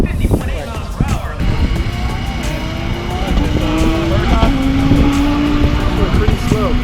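A Dodge Hellcat roars past at over 150 mph on a drag strip, a loud, sustained engine howl with rising pitch as it passes close, under faint crowd noise.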